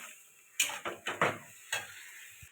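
Bhetki fish curry with potato and taro, with ground cumin and dried chili paste, being stirred and sautéed in a pan: a handful of distinct scraping clatters of a spoon against the pot over a faint background hiss.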